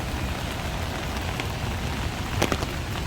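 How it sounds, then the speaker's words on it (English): Heavy monsoon rain pouring onto a Bangkok street, a dense, constant hiss of water on pavement and surfaces with a few louder spattering drops, no talking. "The rain is laying down a little bit."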